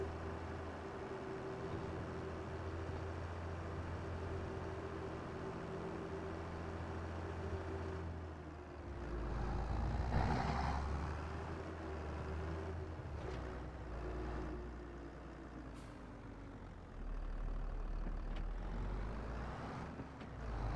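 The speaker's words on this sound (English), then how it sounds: "Then we'll run this tractor to the other field." A tractor engine in Farming Simulator drones steadily at low pitch as the vehicle drives between fields. Midway it revs harder with a brief louder surge, then settles back into a constant hum with no voices.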